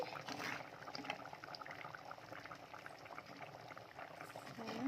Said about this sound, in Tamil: நல்லா குழம்பு கொதிச்சிருச்சு